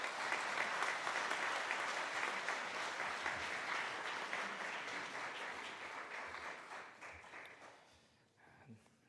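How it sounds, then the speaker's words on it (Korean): An audience at a church fellowship gathering gives warm, dense applause to welcome a pastor. The clapping is steady, then thins and fades out near the end. "나올 때 여러분 심차게 박수로 한번 이렇게 격려해 주시면서 맞아 주시기 바랍니다"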